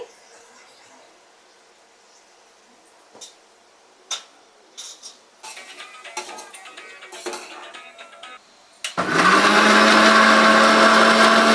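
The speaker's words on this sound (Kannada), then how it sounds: "ತೆಂಗಿನಕಾಯಿ, ಶುಂಠಿ, ಬೆಳ್ಳುಳ್ಳಿ, ಚಕ್ಕೆ, ಲವಂಗ, ಅದ್ರ ಜೊತೆಗೆ ಆಗ್ಲೇ ರೆಡಿ ಮಾಡಿಟ್ಟಂತ ಮಸಾಲೆನೂ ಹಾಕೊಂಡು ರುಬ್ಕೊಳ್ಳೋಣ" A mixer grinder grinding coconut, ginger, garlic, cinnamon, cloves and masala bursts into a loud, steady whir near the end, after a run of scattered clicks and taps.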